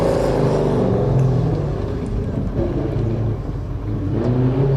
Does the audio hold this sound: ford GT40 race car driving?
yes